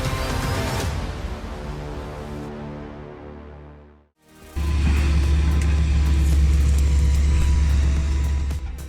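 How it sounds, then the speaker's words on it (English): A Hitachi ZX200 excavator's diesel engine drones while it rips out a tree stump with its ripper tooth. The engine tone fades to a brief lull, then surges back as a loud, steady low rumble. "The Hitachi ZX200 locks in with its ripper tooth, tearing through the stubborn stump like it's just another day on the job."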